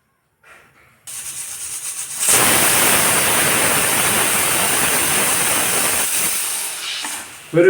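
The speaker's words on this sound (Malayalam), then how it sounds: "ഒരു വിസിലിന് ശേഷം തീ ഓഫാക്കുക." A pressure cooker holding beef pieces and a little water lets out a loud, sustained hissing whistle of escaping steam that lasts several seconds before tapering off.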